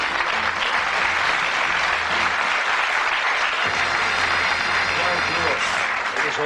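A studio audience at the Bullseye TV game show claps loudly and continuously throughout, a dense wall of applause with voices faintly underneath.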